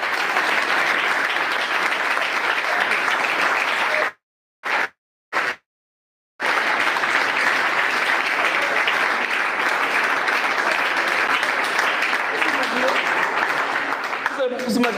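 A congregation at a French-speaking church service claps loudly and steadily for the Lord, with voices mixed into the dense applause; the sound cuts out briefly twice in the middle before the clapping resumes and carries on.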